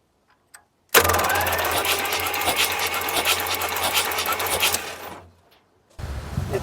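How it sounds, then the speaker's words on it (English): A stuck Chrysler car engine cranks over for about four seconds, a loud, steady, rapid churning from the starter with a fast rhythmic chatter, ending abruptly; after a short pause another burst of mechanical noise starts up nearby. "I'm going to crank it one more time and see if it returns"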